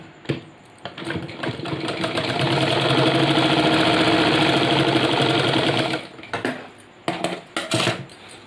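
An electric sewing machine stitches fabric pieces of a girl's pant together, a loud steady whirring run of about five seconds framed by short start-stop bursts.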